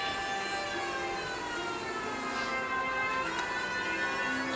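In the video game L.A. Noire, a police car siren wails steadily and fairly faint, a sustained tone that holds without pause and without talk.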